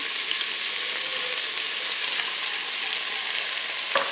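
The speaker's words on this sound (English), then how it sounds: "Then I'm gonna add my chopped tomatoes. I'm gonna add 1 can." A steady, loud sizzle fills a pan of lamb and runner bean stew as canned chopped tomatoes go in, with a faint clunk near the end and no voices.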